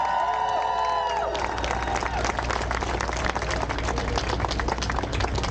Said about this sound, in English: Give him a round of applause, really,